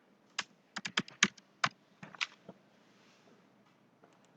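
Code being typed on a computer keyboard, a close, crisp string of key clicks in short uneven bursts, then a pause and a final tap or two.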